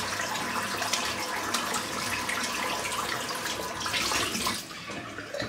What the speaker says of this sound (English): I'm just going to wet my face again